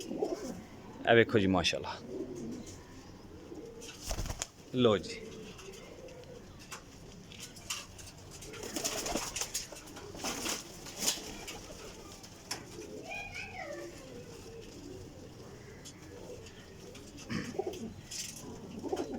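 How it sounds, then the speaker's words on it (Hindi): Indian Jalandhari pigeons coo softly and repeatedly nearby with wing flutters, while someone talks over them at times. "इंडियन जलंधरी कबूतर यानी कि लाखे कबूतर"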